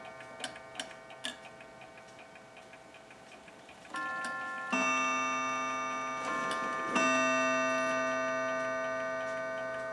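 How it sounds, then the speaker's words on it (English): A German mantel clock ticks softly, then chimes in two strikes, each leaving a long, bright, ringing tone that decays slowly. "A lovely chime to it."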